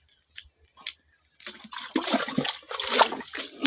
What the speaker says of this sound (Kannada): ಎಷ್ಟು ನೀರು ಹರಿಸ್ಯಾಳ